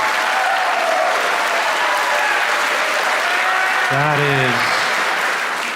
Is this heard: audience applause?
yes